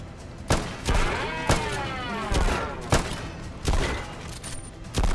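Pistol shots in the post-apocalyptic game Fallout: London, about eight sharp, fairly close reports spaced roughly half a second to a second apart, with ringing ambience between them.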